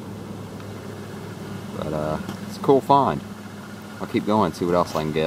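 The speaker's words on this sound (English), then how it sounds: "Sorry about the noise. I'm right by the road." Steady road traffic rumble with a car engine hum beside a roadside dig site, continuous and moderately near while someone talks over it.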